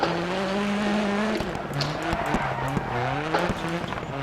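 A rally car in DiRT Rallycross slides on its tyres with a loud, sustained squeal over a roaring engine that rises and falls as it shifts, all close and continuous.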